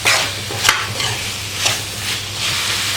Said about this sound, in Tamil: கத்திரிக்காய் நல்லா எண்ணெயிலெல்லாம் நல்லா வதக்கணும்